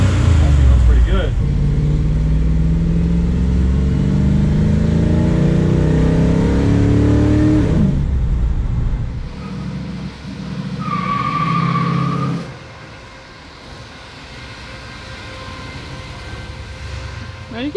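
A 1957 Chevy's engine revs hard with rising pitch and tire noise in a burnout attempt, then cuts back and fades to quiet idle.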